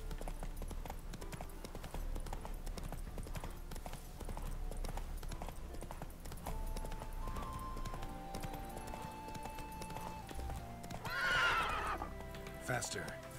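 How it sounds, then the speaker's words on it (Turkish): Horses in the open-world game The Witcher 3 clip-clop steadily throughout, with a sharp whinny near the end, all under continuous game ambience and voices. "Atlar."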